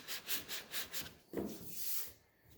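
A sanding block works high-build epoxy primer on a Ford F350 tailgate in about six quick, rhythmic back-and-forth rubbing strokes, followed by a longer, softer scrape. The sound is close but faint, with no voices.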